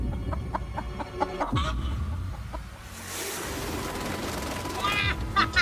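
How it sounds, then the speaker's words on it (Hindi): A chicken caught in the wilderness clucks in a few short bursts, mixed with rustling and handling noise at close range. "मैंने मुर्गी पकड़ ली।"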